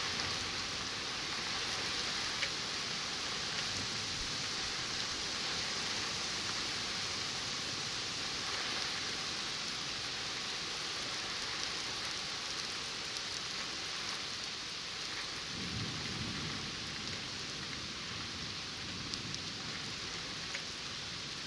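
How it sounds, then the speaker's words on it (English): Steady broadband hiss of heavy rain mixed with pea-sized hail striking surfaces during a severe thunderstorm over New York Harbor, continuous and fairly loud, with a brief low rumble of wind or thunder late on. "Like pea-sized hail."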